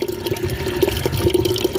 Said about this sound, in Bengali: আমি পানি ভরে নিচ্ছি আর এটাও পরিষ্কার করে দিলাম।